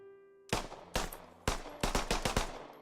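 An M17 pistol fired in a military shooter game, seven sharp close shots, the first few spaced apart and then a quicker string, crisp and loud over near silence.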